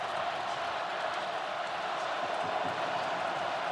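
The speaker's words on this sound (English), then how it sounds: "Crowd coming to life for the Penn State defense here" Stadium crowd at a Penn State versus Oregon college football championship game, a steady distant roar of cheering fans rising for the Penn State defense on third down, continuous and broad.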